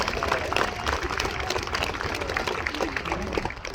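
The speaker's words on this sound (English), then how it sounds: "Let's give them a big round of applause for their ongoing support to the ALS community." Outdoor crowd applause at the opening ceremony of an ALS walk: a moderate, scattered clapping from a gathered crowd with murmured voices underneath, steady across the clip.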